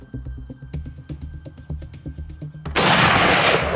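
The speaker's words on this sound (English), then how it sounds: "Shoot him right in the chest, right in the shoulder." A rifle shot fired at an aoudad on a West Texas hunt cracks out loud and sharp near the end, its broad blast decaying into a long echoing tail after a stretch of quiet voices and low rumble.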